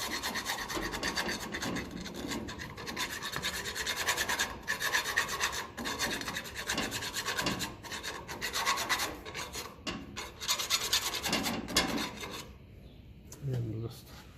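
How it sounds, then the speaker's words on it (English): Hand file rasping rust off a Massey Ferguson 35 tractor part in steady repeated strokes, close and fairly loud, with brief pauses near the end. "I'm just going to give that a quick rub of the files. Mostly just a bit of rust"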